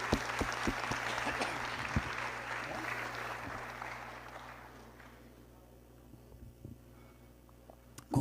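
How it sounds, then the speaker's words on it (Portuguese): A church congregation gives a round of applause, clapping in a reverberant hall that fades after about five seconds, leaving a low hum and a few faint sounds. "Podemos dar uma salva de palmas para esse Deus maravilhoso?"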